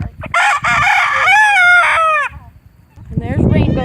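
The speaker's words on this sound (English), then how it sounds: "He's the head rooster at the barn." A rooster crows loudly and close by at a barn, one long wavering cock-a-doodle-doo lasting about two seconds, with clucking and scratchy farmyard noise before and after.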